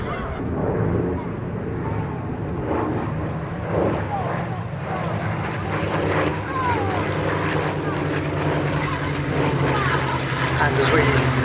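Vintage WWII-era aircraft, 8th Air Force types, flying at the Duxford summer airshow, with a steady loud engine drone running throughout, mixed with crowd noise and a voice talking over it.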